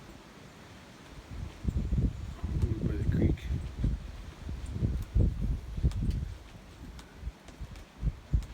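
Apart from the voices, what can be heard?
wind blowing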